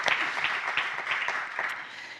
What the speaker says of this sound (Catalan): Així que, per favor, un aplaudiment per a Álvaro.